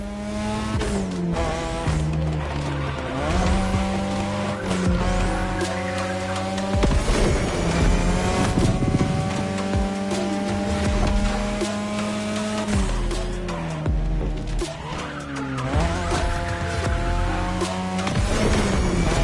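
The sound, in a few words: 2002 Mazda RX-7 rotary engine and tire squeal, The Crew Motorfest video game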